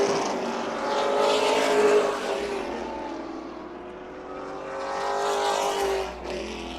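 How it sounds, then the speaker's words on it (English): Super late model stock cars roar past at Tucson Speedway during the Turkey Shoot 125, a loud, sustained engine drone with rising and falling pitch as the pack passes, no talk. "Out of turn number 4, the driver with the drive to get here, 42, Kyle Reed wins the Turkey Shoot 125."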